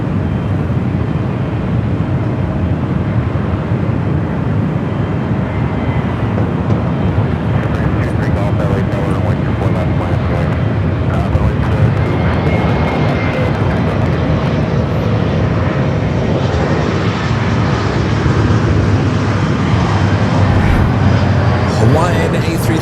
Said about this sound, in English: The Lufthansa Queen also heading up for a north side takeoff.